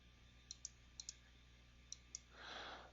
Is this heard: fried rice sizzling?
no